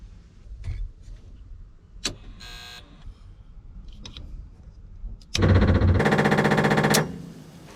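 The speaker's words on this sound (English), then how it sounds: "turn on the ignition, turn on the pump, and hopefully only that pump will fire" An electric fuel pump in a rally Mini switches on with a loud steady whir for about two seconds, close, following a few scattered clicks and knocks.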